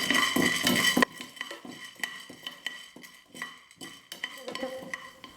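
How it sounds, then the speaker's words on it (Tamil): Black peppercorns and cumin seeds being stirred while dry roasted in a small pan over medium heat, with scraping and clinking of a spoon against metal, an opening burst of louder sizzle-like rattling, then sparse irregular taps. "மிளகு சீரகம் ரெண்டும் நல்லா வறுப்பட்டுடுச்சு"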